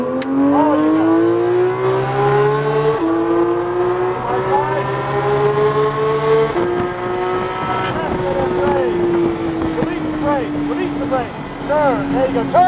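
A car engine accelerating under a learner driver, a steady rising and falling hum that climbs in pitch through several gear stretches, close and fairly loud throughout.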